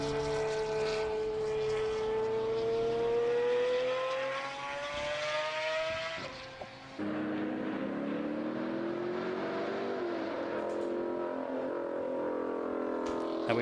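A Pagani Zonda R supercar with gold wheels passes at pace, its engine note rising in a long sweeping pitch before dropping away, then a second howling run follows, loud and clear at an outdoor car meet.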